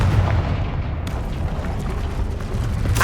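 A Confringo fire spell explodes in the video game Hogwarts Legacy, a loud, deep, rumbling boom that rolls on continuously with a sharper burst near the end and no speech over it.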